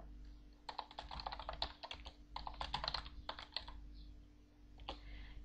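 Commands are typed on a computer keyboard in quick, irregular bursts of close, crisp key clicks with short pauses, fairly quiet overall.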